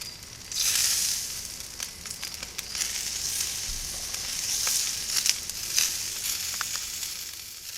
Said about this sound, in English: as the grease drips off and goes down and is vaporized